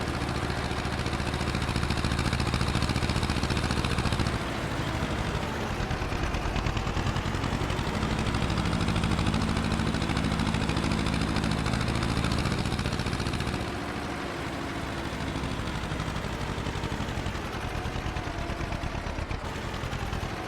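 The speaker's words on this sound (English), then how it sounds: "The little tractor does still get up to speed on these normal roads though." A small tractor engine in Farming Simulator 22 drones steadily as it drives along a road, a loud continuous rumbling hum with slight shifts in tone throughout.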